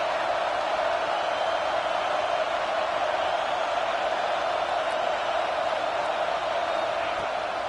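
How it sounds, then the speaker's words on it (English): Steady roar of a stadium crowd at an American college football game, a dense continuous wash of noise with no gaps across the whole stretch. "This crowd bringing the energy and noise early."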